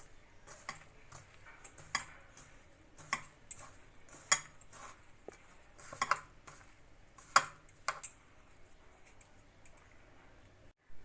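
Paneer, potato and spices being mixed by hand in a bowl, giving soft scattered clinks and taps of the bowl and utensil at an irregular rhythm, quiet and close with no talking.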